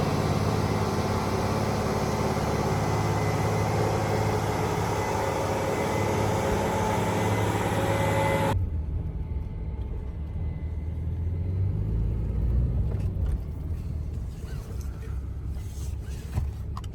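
A CASE 9240 combine travels down a road with trucks, giving a broad, steady engine rumble and road noise throughout, with a sharp change in tone partway through as the sound continues at similar loudness.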